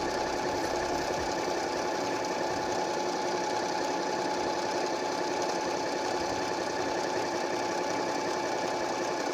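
A Singer 8280 sewing machine runs steadily through decorative stitches, its needle mechanism giving a continuous, even whirring hum with a fine rapid clatter that holds at a constant level throughout.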